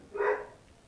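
A single short dog bark, fairly faint and somewhat distant, sounds once indoors and then fades into quiet room noise.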